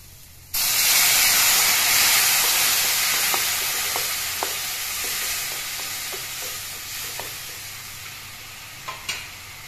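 Water poured into a pan of pointed gourd and potato curry sets off a sudden loud sizzle and steamy hiss that slowly fades, with a few light clinks of stirring.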